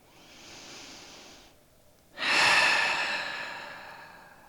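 A deep yoga breath in a quiet session: a soft, steady inhale of about a second and a half, a short pause, then a louder, longer airy exhale that slowly fades, close by with no talking.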